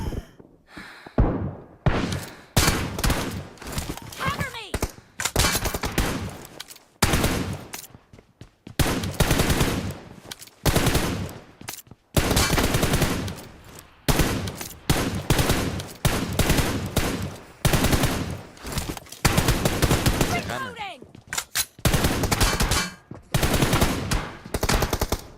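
Rapid bursts of automatic gunfire in the PUBG battle royale video game, shots aimed at an enemy's head, with repeated loud volleys and brief pauses between them, and no talking over them.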